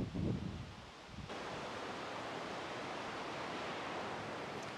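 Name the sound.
river flowing outdoors at Parc des Chutes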